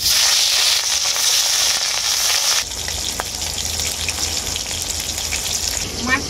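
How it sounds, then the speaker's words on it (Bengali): A large rohu fish frying in a pan of hot oil, a loud dense sizzle that drops to a softer, steadier crackle after a few seconds and continues with no voices. "তো মাছটা এখন আমি ভেজে নেব।"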